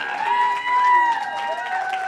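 Applause breaks out from the crowd at a student auction run by an auctioneering college, a moderate burst of clapping and cheering with voices mixed in, holding steady for a couple of seconds.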